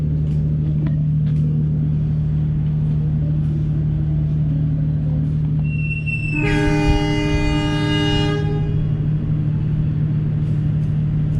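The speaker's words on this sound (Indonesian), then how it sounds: "Kereta Sawung Galihnya lanjut sampai tujuan akhir di Kutoarjo." The KA Sawunggalih passenger train at Kroya station in Indonesia produces a loud, steady rumble close by, with a sustained horn blast of a couple of seconds sounding midway.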